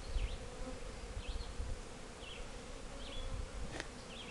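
Honey bees swarm around a newly installed backyard beehive, a steady buzzing hum that fills the whole stretch, with faint bird chirps drifting in from the distance.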